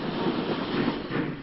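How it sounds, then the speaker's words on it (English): A Great Western branch line train of small prairie tank engines departing, rumbling steadily with a dense mechanical roar, heard close and continuous through the short stretch. "The branch train leaves for Lost Withiel, a typical GW formation of small prairie tank"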